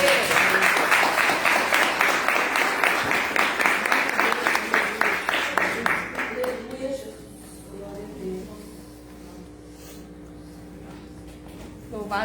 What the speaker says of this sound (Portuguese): Aplauda o Senhor por sua palavra.